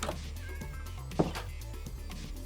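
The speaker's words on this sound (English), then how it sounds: "Apparently I have a cat over here." A cat meows in a Minecraft-style block-building game while walking among basic villager houses, a short mid-range call over a steady game soundscape.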